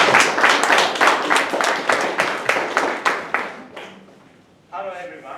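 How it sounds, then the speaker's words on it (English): Audience clapping for a speaker at a first-year English speech contest, a steady round of many hands that builds and then fades out over several seconds, followed by a brief burst of voices at the end. "Let's give Isato a round of applause."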